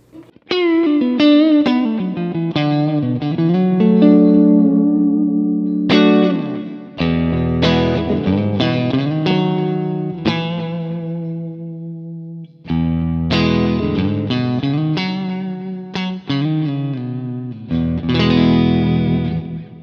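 A distorted electric guitar through a Kemper amp profile plays chopped chords and short riffs with effects, loud and alone, with brief gaps between phrases.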